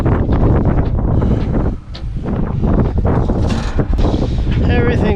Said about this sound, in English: It is extremely windy out